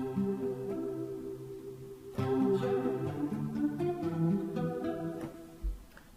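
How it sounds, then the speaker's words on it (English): Electric guitar chords with a swirling, sweeping flanger effect, played alone in a steady strummed pattern with sustained ringing notes. "let's say I change that to a flanger"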